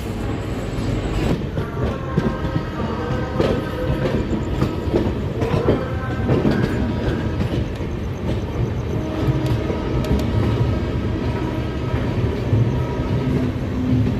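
A passenger train at Jasidih Junction rolls along the rails with a steady, loud rumble and rhythmic clickety-clack of wheels over joints, continuous throughout without talk.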